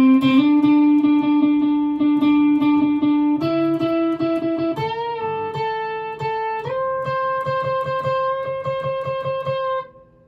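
An electric guitar with effects plays the chorus of a song, a run of sustained distorted chords stepping up in pitch, played alone close up before fading out at the end.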